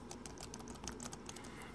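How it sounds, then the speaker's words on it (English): Quiet, rapid typing on a metallic black Microsoft Designer Bluetooth Desktop Keyboard, soft muted key clicks in a steady close-up patter with no talking. "The keys feel great. They're not sticky. They don't make much noise."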